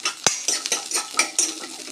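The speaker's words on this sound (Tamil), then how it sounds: "பூண்டும் வெங்காயமும் எண்ணெயில் நல்லா வதங்கட்டும்." Garlic cloves and small onions stirred into hot oil with pirandai (adamant creeper) for a Tamil chutney, giving a soft sizzle broken by repeated scrapes and clinks of a spoon against the pan, close and steady.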